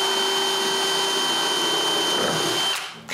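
Power screwdriver driving screws into the back panel of a wooden chest of drawers, a steady close whir for about three seconds before it stops.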